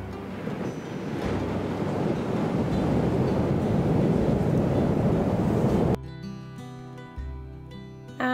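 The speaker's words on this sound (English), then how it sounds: "you can hear the sea rumbling in the distance" The sea rumbles in the distance on a quiet morning near a motorhome stop on the coast between France and Spain, a steady low roar with wind buffeting the microphone, then music takes over near the end.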